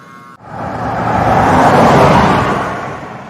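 A luxury car drives through a residential street, its engine and road noise swelling in from a brief quiet, peaking near the middle and easing slightly, heard alone without voices.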